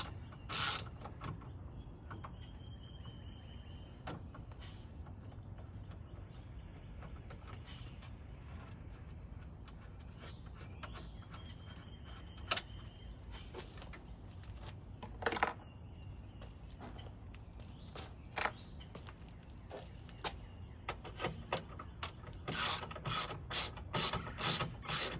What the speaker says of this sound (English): And you turn the bolt counterclockwise, obviously, to remove it.